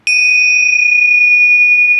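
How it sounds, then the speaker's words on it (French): A single loud gong strike rings out with a sharp attack, then a pure sustained metallic tone holds steady for about two seconds in otherwise silent surroundings. "Coup de gong."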